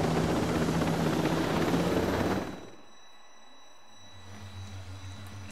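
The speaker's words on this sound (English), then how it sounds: "We shall nick this helicopter and move on that way." A helicopter in the video game Ghost Recon Breakpoint roars loud and steady with dense rotor wash, then cuts off abruptly, leaving a low hum of engine idle.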